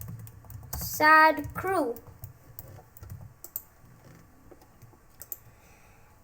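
Sparse clicks of typing on a computer keyboard, faint and close, following a brief burst of speech early on.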